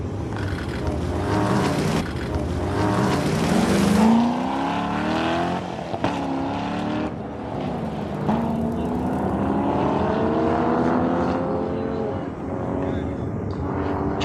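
A Mazda Miata running an SCCA autocross course at Auto Club Speedway revs and shifts through rising and falling engine tones, with a loud public-address announcer talking over it.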